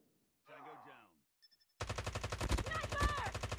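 Rapid automatic gunfire from the Call of Duty video game, a loud sustained burst of closely spaced shots after a brief lull with faint game sounds.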